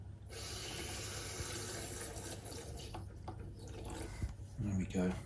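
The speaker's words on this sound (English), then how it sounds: "And drop a little bit of water in there." Faint trickle of water poured into a Macrothele phago spider enclosure, a soft steady stream that tapers off, with a voice speaking quietly nearby.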